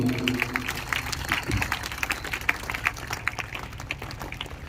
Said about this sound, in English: So big round of applause for Sneha ma'am also.